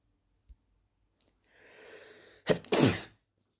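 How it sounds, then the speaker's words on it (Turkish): One loud, close sneeze: a short inhaled breath, then a sharp explosive burst with a brief trailing exhale in a quiet room. "Allah'ım hapşırdık."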